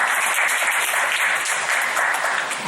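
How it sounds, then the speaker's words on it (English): Applause from a meetup audience for speaker Anand: dense, continuous clapping from a roomful of people, steady and fairly loud throughout the short burst. "All right, clap for Anand."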